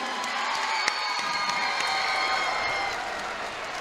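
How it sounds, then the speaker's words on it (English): A fight crowd at a Reality Fighting mixed martial arts event cheers, whoops and applauds after a bout won by submission, a dense, steady roar of many voices and clapping sustained throughout. "Everybody, give him a round of applause."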